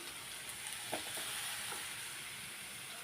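Chopped tomato pieces frying in a pan of golden-browned ingredients for an egg and potato curry, a steady close sizzle and hiss with a few faint stirring clicks and no talk.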